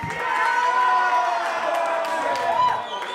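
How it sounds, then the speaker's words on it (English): A crowd cheers and claps loudly, voices whooping together in a sustained burst of applause nearby. "I want to hear a round of applause real quick for these two challengers"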